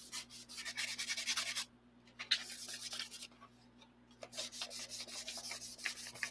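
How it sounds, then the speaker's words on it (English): Sandpaper rubs goo off a small model part in quick, scratchy back-and-forth strokes, close and fairly soft, with a short pause midway before the rasping strokes resume. "the sandpaper took off most of this goo"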